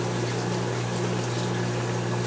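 Kitchen tap water runs steadily while a spoon is washed during home cooking, a loud, unbroken hissing stream with no pauses.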